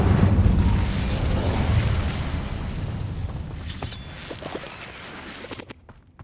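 Incendio fire spell in Hogwarts Legacy: a loud roaring blast of flame that fades gradually over several seconds, with crackling bits near the end and no talk.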